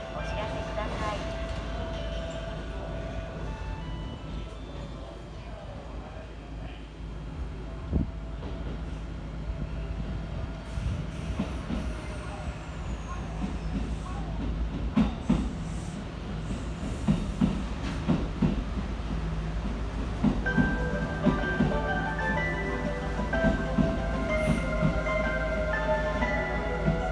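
A Hanshin Railway two-car rapid express train bound for Nara runs through Amagasaki Station toward the depot, its rumble and wheel clatter steady under station ambience, with brake squeals and announcements rising near the end.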